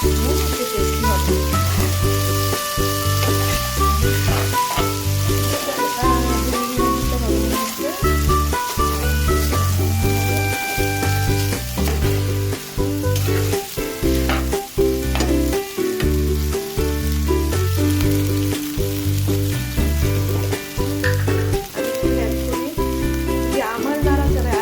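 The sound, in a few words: stirring noodles with carrots frying in a pan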